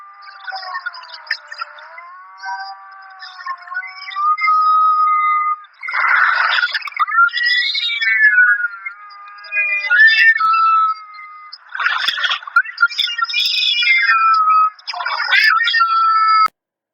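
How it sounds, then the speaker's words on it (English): A cat meows in a string of drawn-out, tonal, wavering calls, loud and close, with pauses between bursts and no talking over them. "there were some cat sounds"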